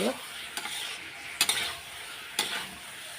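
Potatoes for aloo dum, seasoned with Kashmiri chilli powder, sauté in a pan under a continuous sizzle. A spatula scrapes and knocks against the metal several times at irregular intervals, close up.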